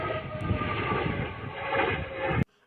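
A Sukhoi fighter jet roars past, loud and close, a dense rushing engine noise laced with a high whistling tone, swelling slightly before cutting off abruptly into near silence.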